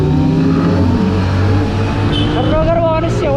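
Several Kawasaki Z900 and Z800 motorcycles running together in Kolhapur, a loud continuous engine drone with rising revs, heard under someone speaking.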